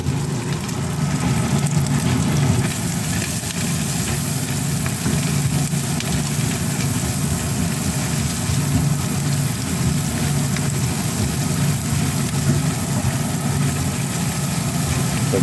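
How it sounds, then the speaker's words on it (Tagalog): A kitchen exhaust fan runs with a constant whooshing hum while garlic is sautéed for a pork and lima bean dish. The fan noise is steady and close, with a faint sizzle underneath and no talking. "Yung exhaust fan, yan o"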